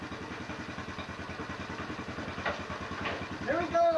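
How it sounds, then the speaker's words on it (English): Several motorcycles idle and rev nearby with a steady rhythmic engine chug that swells as the riders pull away, and a few voices talk over the engines toward the end. "There they go, the motorcycle gang."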